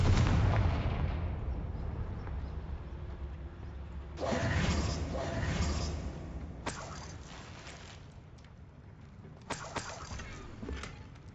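Bombarda and Confringo spells in Hogwarts Legacy detonate as heavy booming blasts, with a rumbling burst midway and a few sharper cracks later, all set against a continuous low background rumble.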